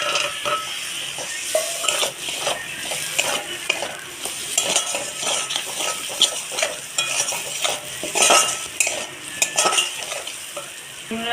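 Fried potatoes, for a green-banana curry, are tipped into a spice paste that has begun releasing its oil, then stirred with a metal utensil: steady scraping and clinking over a continuous sizzle, close and fairly loud, with no talking.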